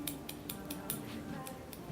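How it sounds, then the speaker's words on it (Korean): Long hair scissors snip through layered hair during a haircut, a quick series of about eight crisp metallic cuts in an irregular rhythm, close and clear over faint room noise. "롱 가위를 많이 씁니다"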